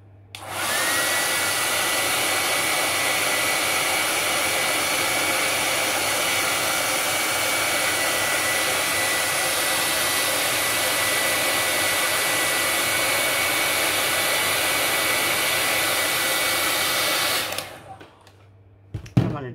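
A hair dryer blows on a small patch of craft paint, a loud, steady, close-up whir running without a break for about seventeen seconds before it cuts off, with no talking.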